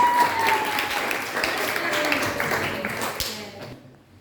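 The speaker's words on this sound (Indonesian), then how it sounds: "Tepuk tangan buat Morris" Classmates clap for a student during a geography lesson, a modest round of hands in a classroom that carries on under a faint voice and thins out toward the end.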